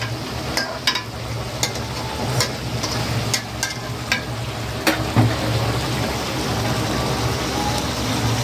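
Tilapia frying in a pan with lemon, ginger and garlic gives a steady, close, dense sizzle that runs throughout. Sharp crackles and pops break through now and then, with no talking.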